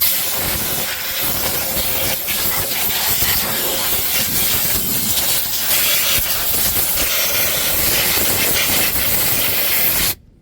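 Compressed air blasts steadily from a nozzle onto the front brake parts of a 1983 Ford E350, a loud continuous broadband hiss lasting about ten seconds before stopping abruptly.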